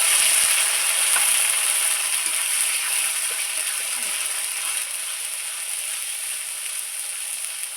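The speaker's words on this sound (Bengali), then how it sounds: "এবার বেটে রাখা মশলাটা দিয়ে দিচ্ছি।" Ground spice paste frying in a pan with browned onions for an elephant foot yam curry, a loud, even sizzle that slowly softens, with faint scraping stirs near the start.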